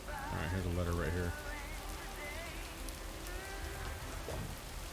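Steady rain falls in the video game Lake, a soft continuous patter under game music and a voice heard briefly at the start.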